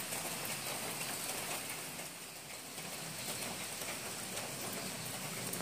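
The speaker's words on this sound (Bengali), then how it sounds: "এরকম ঝমঝমিয়ে বৃষ্টি এসে গেছে" Heavy rain pouring down, a dense, steady wash of drops drumming on surfaces, moderately loud and unbroken throughout with no voices.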